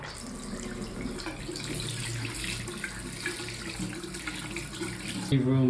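Water runs steadily from a tap with weak pressure in a cheap apartment, a continuous close hiss and splash into a sink that stops abruptly near the end.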